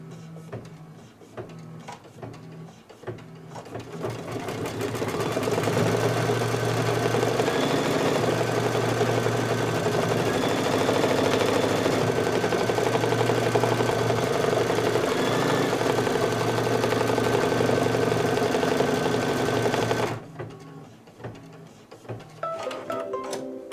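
An embroidery machine stitches a bunny placement outline: a rapid, steady mechanical whirring and clatter starts after a few seconds, holds evenly for about fifteen seconds, then stops abruptly, leaving faint handling clicks and quiet room sound.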